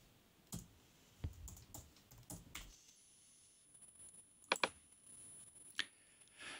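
Mouse clicks and keyboard typing on a computer while setting up a new DaVinci Resolve project: a few sharp clicks, then a quieter pause and a couple of crisp louder taps, close and with no speech.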